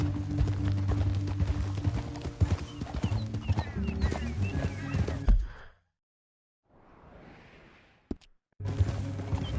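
Horse hooves galloping in Red Dead Redemption 2, a steady loud clip-clop under game music that cuts off abruptly midway, followed by near silence and a brief return of hoofbeats at the end.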